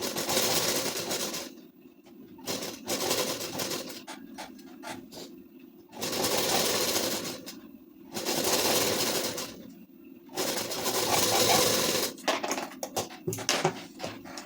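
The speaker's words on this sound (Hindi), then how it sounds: "इधर भी पेस्टिंग के किनारे किनारे चलाएंगे सिलाई" Sewing machine stitching a ladies suit along the pasting edge, running in bursts of steady whirring that stop and restart several times, close and fairly loud, with no talk.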